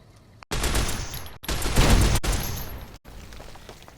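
Sustained loud gunfire in the video game Fallout New Vegas, a dense roaring burst of rapid shots lasting a few seconds with brief breaks between stretches.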